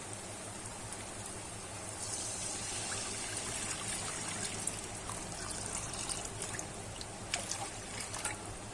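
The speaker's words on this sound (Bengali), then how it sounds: "এবারে কিন্তু আমি জল দিয়ে দেবো" Water poured into a pan of soya chunk curry, a steady splashing trickle that swells after a moment and keeps running, close and without talk.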